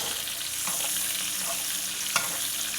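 Steak sizzling steadily in a hot pan while being basted, a dense continuous crackle with light scraping and one sharp clink near the end, no voices.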